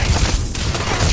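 Sustained gunfire from a firefight in the video game Starfield, loud and dense with rapid overlapping shots and booms across the whole moment, with no pause.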